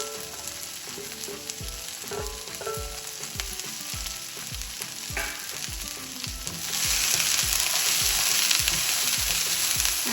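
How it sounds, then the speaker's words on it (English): Okra frying in a pan over a low flame for bindi aloo gives a steady close sizzle with scattered pops and stirring scrapes, growing brighter and denser in the last few seconds. "always fry okra and on very low flame"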